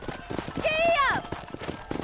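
A horse whinnies loudly in the middle of a short burst of hoofbeats in the video game Red Dead Redemption, while someone talks over it before and after.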